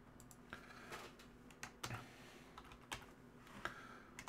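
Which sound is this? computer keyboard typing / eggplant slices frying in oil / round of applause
computer keyboard typing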